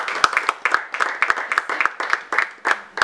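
A small audience at a foundation's presentation of staff clapping, sparse, distinct claps from a handful of people in an uneven, close rhythm.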